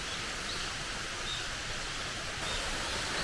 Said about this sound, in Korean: 물소리 들리죠.